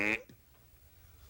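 A single short, honking burst from a human voice imitating a whale sneezing, followed by quiet.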